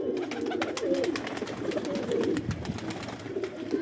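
Pigeons coo steadily at a home pigeon loft, a continuous soft burbling chorus of several birds close by with occasional wing flutters and bird calls throughout, no talking.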